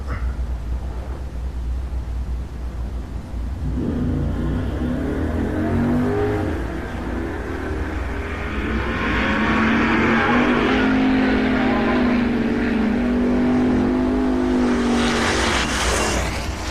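An Audi and a Chevrolet Camaro launch and accelerate in a drag race at TriState Raceway, engines revving into a loud, rising roar that builds as the cars pull away, heard from trackside.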